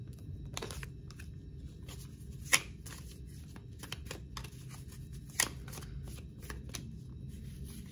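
A deck of tarot or oracle cards is shuffled and cut, with soft riffling rustles and two sharp card snaps, close and quiet with no talk.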